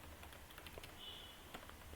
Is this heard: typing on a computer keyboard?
yes